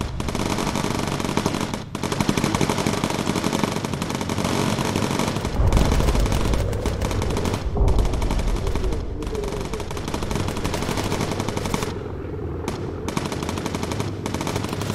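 Bomber gunners fire their aircraft's machine guns in the game Bomber Crew: dense, continuous rapid bursts of loud gunfire stacked over a constant engine roar, with a few brief pauses between volleys.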